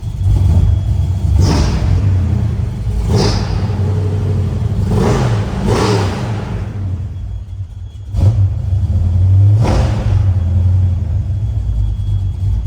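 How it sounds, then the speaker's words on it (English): A 1966 Ford Mustang fastback Shelby GT-350 tribute with a strong cam and Sniper EFI, its engine idling with a deep rumble and then revving up loudly in several repeated bursts, close by with no voices. "I'm gonna give it a rev so you guys can hear it."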